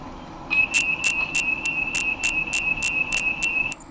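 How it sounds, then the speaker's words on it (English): High, steady insect chirping from a bug, about a dozen evenly spaced sharp pulses over a continuous whine, fairly close and clear with no talking. "I'm gonna guess this is another bug."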